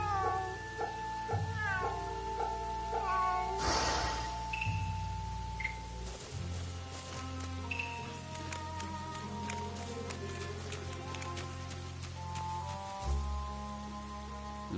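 A cat meows repeatedly in the video game Fate/Samurai Remnant, its calls standing out over a steady layer of game music and ambient rain.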